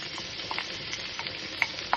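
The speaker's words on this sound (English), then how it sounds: "We're gonna put the onions" Onions frying in a pan give off a constant close sizzle, with faint stirring scrapes and a couple of small clicks of a utensil.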